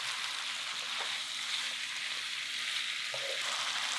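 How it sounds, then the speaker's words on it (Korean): Potatoes stir-fried with pork, onion and seasoning sauce in a pan for pork jjageuri, giving a steady close sizzle and crackle with a few faint scrapes of stirring, no voices. "감자 넣고 볶는다."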